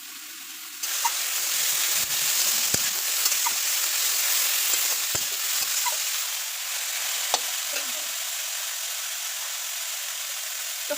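Bitter gourd frying with grated coconut in a pan, stirred steadily: a constant bright sizzle with sharp spatula scrapes and knocks every couple of seconds.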